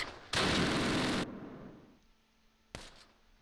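Two loud blasts of rounds fired at a church in the wartime tactics game Close Combat, set at Romagny in 1944: a long roaring burst, then a short sharp shot after a fading tail.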